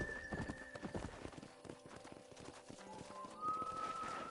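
A horse gallops in the video game Red Dead Redemption with rapid rhythmic hoofbeat clip-clops, moderately close but quiet overall, with a brief whinny-like tone and game sounds around it.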